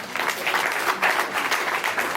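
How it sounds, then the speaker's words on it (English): An audience claps steadily for a couple of seconds at a formal gathering honoring a life member, dense continuous applause at close range. "Please put your hands together for Sir Parker Egobami, a life member"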